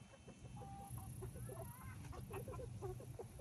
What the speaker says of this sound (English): It seems that we have some chickens.